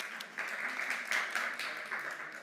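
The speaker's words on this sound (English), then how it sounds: "Bigger round of applause." A conference audience at a COP28 food-systems session in the Nordic Pavilion claps for about two seconds, a soft, even patter of many hands heard from some distance.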